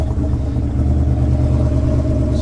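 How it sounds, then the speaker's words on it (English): A warm GMC 2500 pickup's 4.8 engine runs with a steady idling rumble, a faint thin squeal riding on top of the continuous low drone. "it's got this squealing noise, sounds like an alternator belt"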